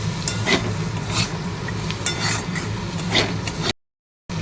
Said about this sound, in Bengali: তার মধ্যে দিয়ে দেবো একে আদা, রসুন, কাঁচা লঙ্কা আর পেঁয়াজ। ভাজা ভাজা দিয়ে দেবো কয়েকটা কাজু।